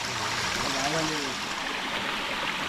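A waterfall gives a continuous broad rushing roar close by, with a short burst of voices partway through.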